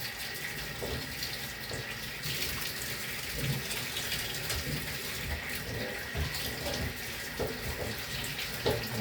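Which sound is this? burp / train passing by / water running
water running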